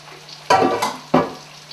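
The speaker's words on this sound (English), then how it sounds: "I put them in my frying pan with the butter on the bottom" Two bursts of sizzling as noodles hit a hot buttered frying pan, each a sharp hiss that fades into a softer crackle.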